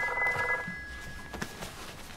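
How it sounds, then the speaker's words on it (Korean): Telephone rings in the interactive video game She Sees Red: a bright, trilling electronic ring for under a second, followed by quiet room ambience. "아까도 전화가 왔었었나요?"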